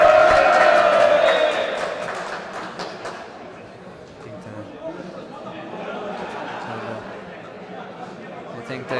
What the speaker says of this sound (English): We're hearing some cheers in the crowd.